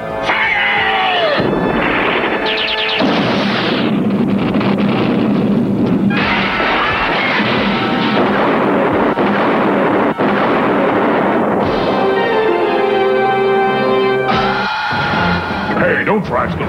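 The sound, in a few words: cartoon robot weapons fire and explosions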